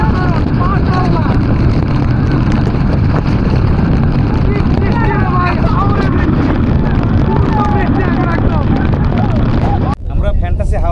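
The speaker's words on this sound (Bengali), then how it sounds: "আমরা ফ্যান্টাসি হাউস বোটে যেটা আমরা আজকে ভ্রমণ করছি" Houseboat cruising across a haor wetland at Tanguar Haor, Bangladesh, with a steady loud motor drone, rushing wind and water, and voices talking over it.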